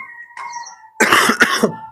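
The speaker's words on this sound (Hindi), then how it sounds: "खांसी आ रही भाई, गला बैठा हुआ है मेरा।" A person coughs twice in quick succession, close and fairly loud, after a brief moment of faint tonal background.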